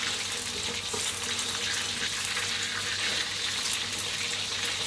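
Pork pieces fry in hot oil for a homemade Thai meal of fried pork and chicken, a steady dense sizzle with some bubbling and stirring, close and continuous with no voices.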